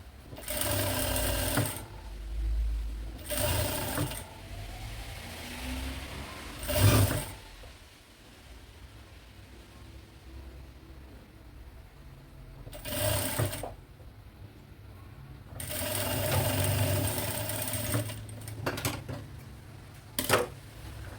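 A sewing machine stitching a narrow double-folded hem in several separate bursts of rapid whirring, with quiet gaps between the runs.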